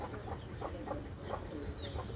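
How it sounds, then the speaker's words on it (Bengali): Birds call through a village morning: faint, repeated chirps that come and go over a steady outdoor background, with no talking. "প্রকৃতিটা কত সুন্দর, পাখির ডাক আরো সুন্দর"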